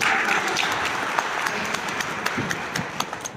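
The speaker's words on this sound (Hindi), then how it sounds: "2 बार ताली बजाइए" Congregation at an Easter worship service in a Methodist church clapping after a special song, a steady patter of hands with some sharper individual claps standing out, fairly close and without talk.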